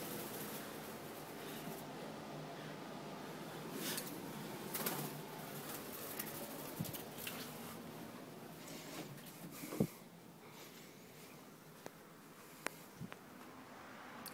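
Indoors, a stray bird, probably a pigeon, gives soft low coos and brief rustling and flapping sounds, faint and intermittent against a quiet room with a few small knocks.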